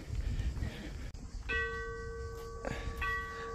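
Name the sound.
church bells ringing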